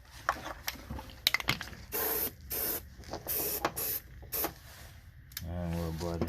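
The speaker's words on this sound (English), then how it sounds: "Hit it with some spray, just some black spray." Several short bursts of black aerosol spray paint hiss close by onto an oil catch can for an H22-swapped Honda Civic, with rattling and clicking handling noises between them and a low engine-like hum near the end.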